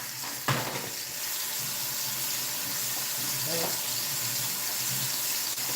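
Tap water runs steadily into a sink as shrimp are rinsed in a strainer, a continuous close splashing hiss with a brief clatter near the start and a faint knock midway.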